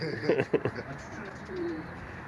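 A captured pigeon coos close by, a few low throaty coos followed by a softer drawn-out one, over faint background noise.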